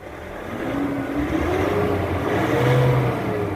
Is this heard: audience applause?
no